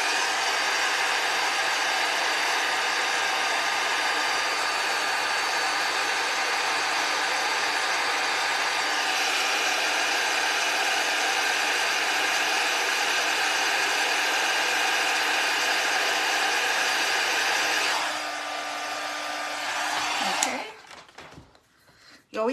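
A heat gun for heat embossing a card blows a steady, close whirring roar for about eighteen seconds, then shifts pitch and cuts off with a few handling clicks.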